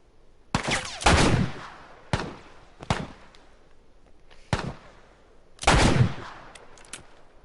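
Several sharp, loud sniper rifle shots in the video game The Last of Us fire singly at irregular intervals, each a crisp crack with a short echoing tail, two of them heavier and more booming.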